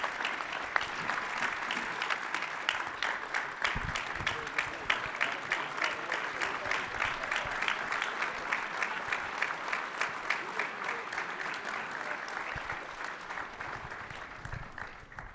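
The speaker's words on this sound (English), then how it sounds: "Please give them a round of applause." An audience at an evening public program claps in a sustained round of applause, steady and dense from start to finish, heard from within the room.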